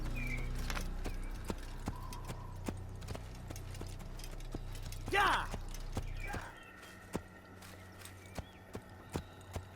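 Horse hooves clip-clop steadily in the Assassin's Creed video game, a rhythmic run of sharp hoof strikes under low ambient noise, then slowing to a few spaced steps, with a brief whinny-like sound midway.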